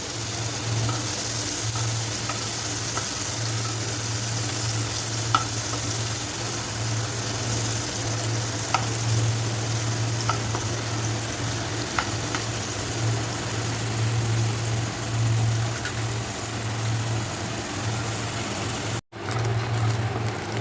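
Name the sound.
paneer shallow frying in hot oil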